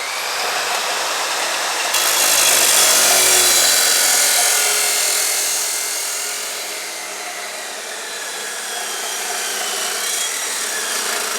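A power tool cuts through a length of angle iron with a loud, continuous, harsh whine that swells for a few seconds, eases off, then builds again, with no talking.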